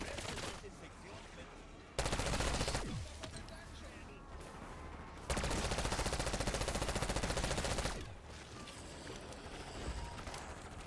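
Bursts of automatic gunfire in the video game Black Ops 6, two loud sustained volleys a few seconds apart, with quieter game sounds and some voice between them.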